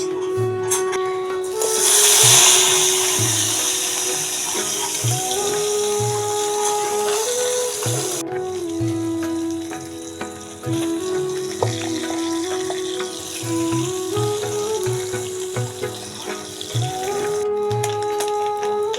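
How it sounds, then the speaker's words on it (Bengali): Puti fish coated with salt and turmeric fry in hot oil in a kadai, giving a steady close sizzle with bubbling swells, over a faint tonal hum in the background. "তেল গরম হয়ে গেছে, মাছ দিয়ে দেব।"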